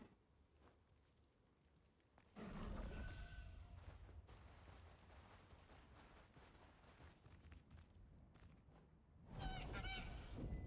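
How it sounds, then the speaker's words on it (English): Honking, goose-like bird calls come in loud, close bursts, one long stretch of harsh honks followed after a pause by another sharp round of calls. "Bird."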